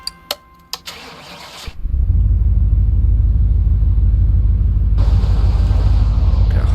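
A Chevy Astro van engine in Car Mechanic Simulator: a few sharp clicks, then the engine cranks and catches into a loud, steady, rumbling idle.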